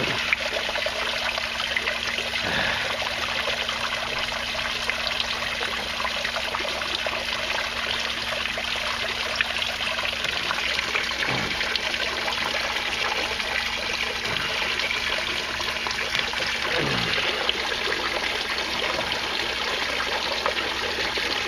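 Water pouring from an inflow pipe into an aquaponics tank, a continuous close splashing rush with a few brief low knocks along the way.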